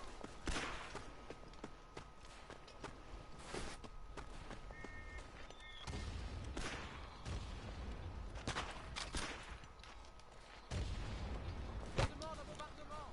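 Mortar and gunfire in the WW1 shooter Verdun: scattered booming impacts and sharp shots at varied distances across a busy battlefield, with footsteps and occasional speech mixed in.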